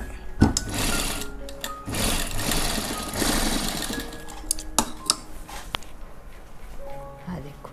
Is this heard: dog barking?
no